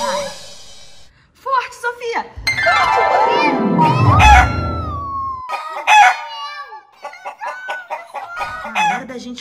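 A toy chicken clucks in short bursts, then gives a long warbling crow, with children's voices talking and shouting around it.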